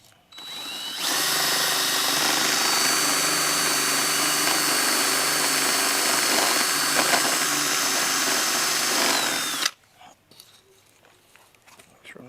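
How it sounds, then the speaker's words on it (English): A power drill bores a hole through a house wall while an outdoor faucet is replaced, a loud steady whine running about nine seconds before stopping abruptly, then quiet. "I'm going to use this as my guide to drill the rest of the hole through"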